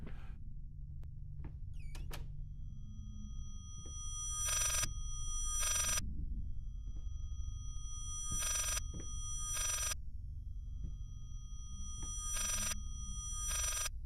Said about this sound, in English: that supposed to be some kind of phone?